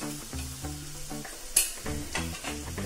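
A spoon stirs turmeric, chilli powder, garam masala and salt into mixed dal in a pan, with repeated scraping strokes over a steady sizzle, close and moderately loud, no voices.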